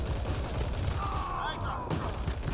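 Gunfire in Mass Effect Andromeda multiplayer, a rapid run of shots with a whining energy tone over it, mixed with game voices.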